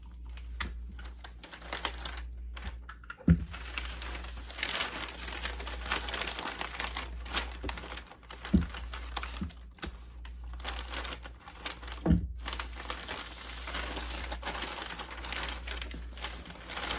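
Paper crinkling and rustling while a belt is wrapped for shipping, several crisp crumpling bursts at close range against a steady low hum, with no talking.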